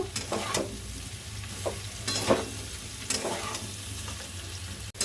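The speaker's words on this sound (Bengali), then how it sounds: "সোয়াবিনটা দিয়ে খানিকটা, আরও বেশ খানিকটা নাড়াচাড়া করে নেব।" Soybean chunks and potatoes fry in a pan with a steady low sizzle, broken by several scraping strokes of a spoon stirring them, close and alone with no talk.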